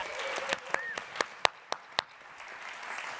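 Applause at a festival talk, with scattered hand claps standing out as sharp individual cracks over a light background of clapping. The clapping thins out toward the end.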